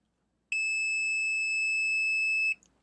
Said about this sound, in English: So if I just hold them together, it will beep.